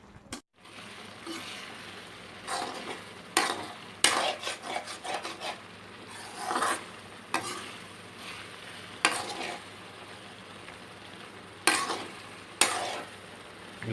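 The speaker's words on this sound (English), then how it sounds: "We'll keep on stirring this so that it doesn't stick, and we'll let it boil properly." Prawn Maggi noodles with masala boiling in a pan, stirred with a utensil: a low steady bubbling bed under intermittent scraping strokes and clinks against the pan, about eight or nine distinct stirs, close and moderate.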